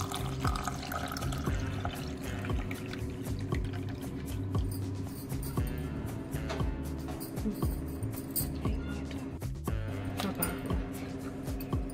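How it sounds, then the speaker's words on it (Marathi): Cold water from a clay pot pours and splashes continuously into a container for cumin sherbet, close by and fairly quiet, with a low hum underneath. "आणि आता त्यानंतर आपल्याला थंडगार माठातलं पाणी टाकायचं आहे"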